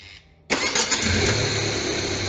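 A car engine cranks and catches abruptly during a battery test, after a faint whine, then settles into a loud, steady idle nearby.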